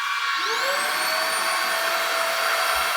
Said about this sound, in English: it is a compact kind of a Hoover